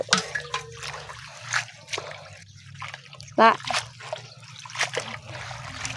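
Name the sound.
washing vegetables under water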